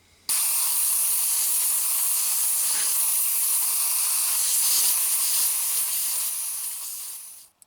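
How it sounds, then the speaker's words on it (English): Compressed air blasts out of a car seat belt connector in a steady, loud hiss that starts abruptly, holds for about seven seconds, then tapers off. "Take a little bit of compressed air."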